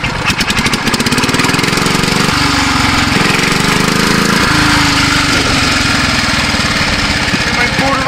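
A small single-cylinder engine on a BCS two-wheel tractor chugs loudly and close by, settling into a steady idle with its pitch dipping and rising as it's throttled.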